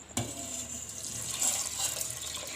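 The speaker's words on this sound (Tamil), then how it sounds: "இப்போ நல்லா தண்ணி ஊற்றி ஊற வச்சுக்கலாம்." Water pours steadily from a tap onto washed ration rice, set to soak for sweet paniyaram batter, a continuous hissing splash starting abruptly and running without a break.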